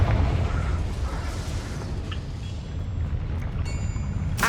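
Confringo, a fire spell in the Hogwarts Legacy video game, sets off a loud, close explosion that rolls on as a dense, continuous roaring rumble with a few faint crackles on top.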